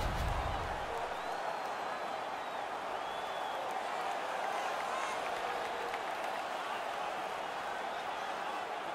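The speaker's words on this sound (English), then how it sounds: "The crowd is ecstatic." An arena crowd cheers and applauds in the ice hockey video game NHL 18 during Pittsburgh Penguins versus Philadelphia Flyers after a fight, a sustained, even roar of clapping and voices.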